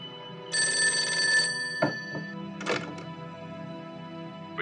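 A telephone rings at a military command post in a Chinese wartime action drama set during the defence of Changsha. One loud burst of ringing is followed by a few dull clunks from the handset, with no voices.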